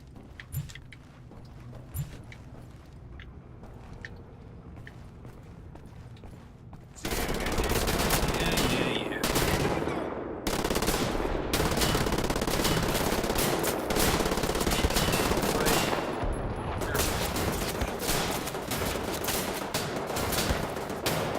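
Automatic and rapid gunfire from the shooter Wolfenstein: The New Order, quiet ambience for about seven seconds, then dense, loud sustained bursts and volleys continuing to the end.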